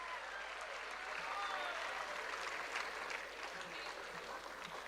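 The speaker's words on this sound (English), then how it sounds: "With a huge round of applause," Sustained applause from an assembled audience welcoming dignitaries at a youth achievers summit in a hall, steady and fairly distant, with no voices over it.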